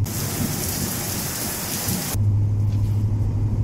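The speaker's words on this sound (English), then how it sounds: "Okay, so, rain montage." Steady heavy rain hisses across the whole clip, then cuts to a second scene with a deep, sustained low rumble of thunder beneath quieter rainfall, a montage of storm sounds with no talking.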